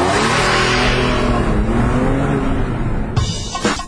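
A Porsche Carrera 4S or Audi R8, both four-wheel-drive sports cars, launches hard and accelerates with a loud, sustained engine roar that rises in pitch, then a gear change and further revving near the end.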